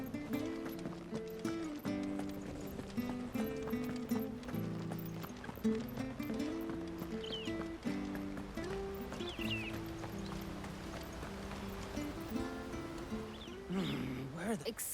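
Horse hooves clip-clop in Final Fantasy XVI, a steady rhythm under an orchestral music score with spoken dialogue and occasional whinnies, fairly loud throughout.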